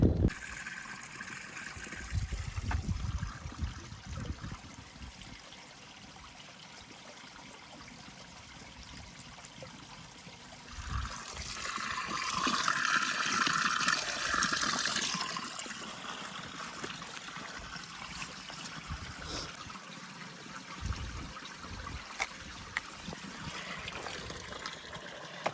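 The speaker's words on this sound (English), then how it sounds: "the water in the towns have turned to more of like troughs with water that's just like running" Water runs through a stone trough in a village, a soft continuous trickle and gurgle with a brief stronger gush in the middle, close and fairly quiet with no voices.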